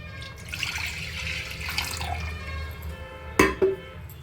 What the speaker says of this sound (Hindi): और इसमें पानी डालना पड़ेगा थोड़ा।